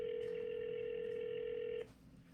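An outgoing telephone call rings back with one steady, loud tone that holds for almost two seconds and then cuts off, leaving quiet line hiss.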